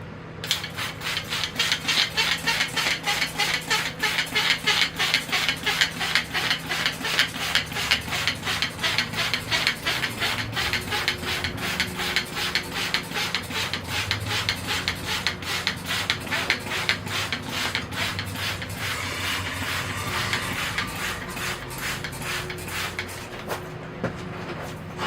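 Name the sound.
spraying soapy water from spray bottle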